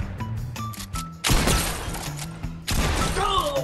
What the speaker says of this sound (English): Someone's firing at me.